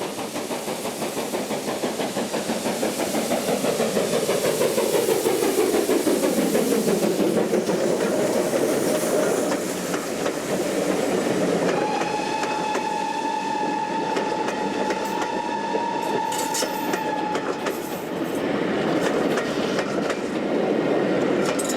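Steam locomotive running on rails, loud and continuous with rhythmic clickety-clack and a steady engine roar, a whistle tone sounding partway through.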